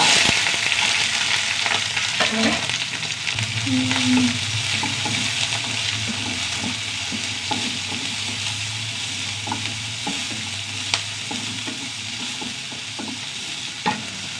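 Mustard seeds, chili and curry leaves fry in hot oil, a close, continuous sizzle and crackle with occasional stirring knocks and a brief rattle early on, gradually easing in loudness.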